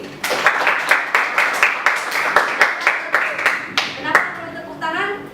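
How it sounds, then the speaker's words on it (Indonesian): A school class claps hands for themselves in a steady rhythmic pattern of about a dozen sharp, evenly spaced claps, then children's voices chatter as the clapping stops. "sila tepuk tangan untuk diri sendiri"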